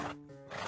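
A horse in Minecraft gives a brief, close, loud neigh with a tonal whinny in the middle, lasting under a second, with no talking.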